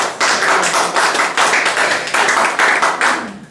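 A church congregation claps for the Lord in steady, dense rhythmic applause that stays loud and close from start to finish, with no talking over it.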